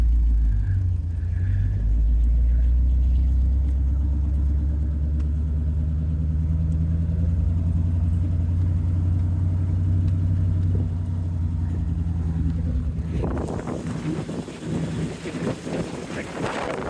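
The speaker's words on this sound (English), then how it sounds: "Love the sound of a flathead" A 1937 Ford Phaeton Model 78 flathead engine runs in a long, steady, loud low rumble, then fades near the end under gusty wind buffeting the microphone.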